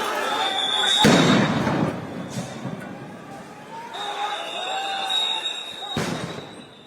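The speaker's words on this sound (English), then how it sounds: "You can even hear the sound of those grenades on the visuals that are coming in." Sound grenades going off during street clashes in Bangladesh, two sharp loud blasts a few seconds apart over a steady background of crowd noise and distant commotion.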